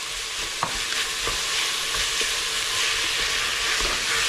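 Cinnamon, star anise and cloves sautéing in a pan for beef biryani, with a soft continuous sizzle and occasional stirring scrapes and taps.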